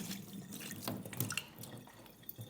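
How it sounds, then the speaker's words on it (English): Soaking water drains off pinto beans being readied for cooking, quiet close-up trickles and drips splashing irregularly, faint and uneven. "So we want to get all that soaking water off these beans."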